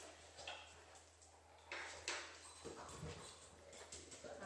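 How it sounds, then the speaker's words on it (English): A dog batting and chasing a ball indoors, giving light irregular knocks and clatters at varying spots, faint and somewhat distant against a low background hum. "My dog is playing with her ball, if anybody's wondering what the noise is."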